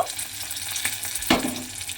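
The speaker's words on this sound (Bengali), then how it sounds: "দিয়ে এবারে মশলাটা আমি একটু ভাজা ভাজা করে নেব" Black cumin seeds and slit green chilli frying in oil in a pan, a close steady sizzle with a sharp burst of crackle and a brief scrape near the middle.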